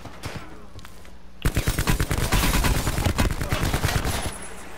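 Rapid bursts of gunfire in Call of Duty: Black Ops 4 hit the player, starting after a quieter stretch and then running dense and loud for several seconds, with a faint voice underneath.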